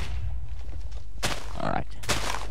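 Bombs going off in the Crafty Bomber video game, two loud broadband blasts in quick succession over a low rumbling backdrop, no talk.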